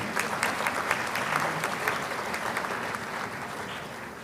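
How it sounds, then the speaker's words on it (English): Audience at a university congregation ceremony and memorial lecture applauds a visiting vice chancellor, a continuous wash of many hands clapping at moderate distance, steady and then easing slightly near the close. "Shall we please applaud him?"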